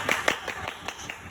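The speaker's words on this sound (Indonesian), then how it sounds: "Oke, boleh tepuk tangan." A small group claps sparsely after a Q&A session with a SEA Teacher awardee, about half a dozen distinct, fairly close hand claps in an uneven rhythm with no talk over them.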